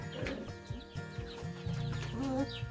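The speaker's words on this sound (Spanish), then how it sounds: "acá están los pollitos" Chicks peep and chickens cluck close by, with a steady run of soft calls and a louder rising call near the end.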